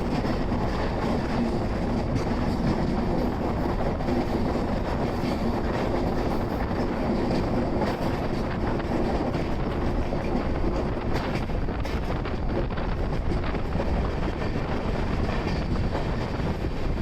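Inside an AC economy coach of the Garib Rath Express between Yesvantpur and Secunderabad, a constant low rumble and rattle of the running train continues steadily with a faint rushing hiss throughout.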